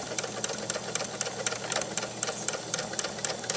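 A sewing machine stitches through fabric with a fast, even mechanical chatter and regular needle ticks, steady and close for several seconds with no speech.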